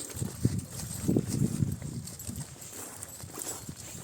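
A horse, a mare for sale, is walked outdoors, its hooves clip-clopping in an uneven walking rhythm at moderate distance, with faint rustling and background noise around.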